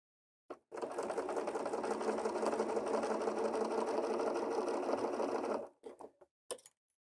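A sewing machine runs steadily for about five seconds, stitching fabric with the rough edges lined up, then stops and gives a few short bursts.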